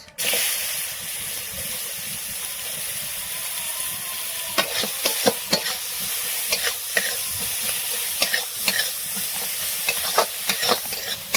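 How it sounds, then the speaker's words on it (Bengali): A whole bay leaf and chopped onion fry in a hot pan with a continuous sizzling hiss, broken by irregular scraping and tapping as a spatula stirs them, close and clear. "দিয়ে দেবো একটা গোটা তেজপাতা ও কুচানো পেঁয়াজ"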